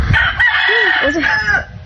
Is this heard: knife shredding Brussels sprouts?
no